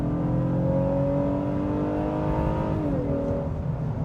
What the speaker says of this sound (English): We're going to go brake torque it. Nice sounds from the V6.